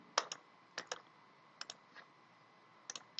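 Computer mouse clicks during 3D modeling software work, a few quiet paired clicks spaced irregularly at close range against a faint background hiss, with no talking.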